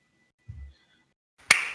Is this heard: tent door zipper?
no